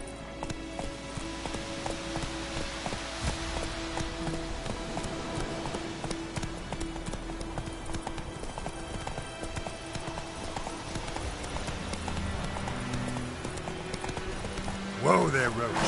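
Roach the horse's hooves clip-clop steadily in The Witcher 3, a continuous walking rhythm under game music and ambience, with a brief louder burst near the end.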